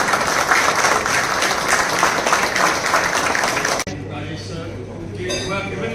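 Loud, dense applause from an audience at a farewell event in Ghaziabad, steady for about four seconds, then it drops to quieter scattered clapping and room noise with voices underneath.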